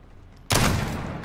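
Gunfire bursts out in a Search & Destroy video game, a sudden loud volley that rings on for nearly a second after a quiet start.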